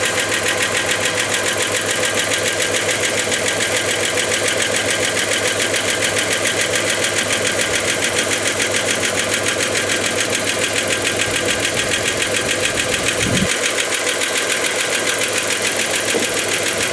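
A 1991 Dodge Caravan engine running, recently fixed for no fuel pressure: a loud, steady, continuous mechanical drone with a fast ticking texture, heard alone without any talk.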